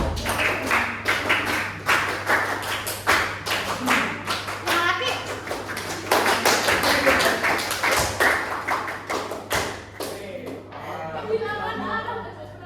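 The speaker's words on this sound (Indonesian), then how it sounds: "Saya bikin ya, tepuk pramuka 3 kali." A school class claps rhythmically in the scout clap pattern, repeated three times, with children's voices chattering throughout and a steady low hum underneath.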